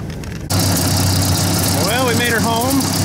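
A 1953 Ford Golden Jubilee tractor engine idles close by with a slight exhaust leak, a steady loud mid-range rumble starting abruptly after a brief quieter moment, with a voice speaking over it.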